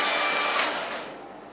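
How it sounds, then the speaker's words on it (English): A hair dryer blows steadily over wet acrylic paint with a loud broadband whoosh that gradually eases off toward the end. "So I'll dry all this up with your hair dryer."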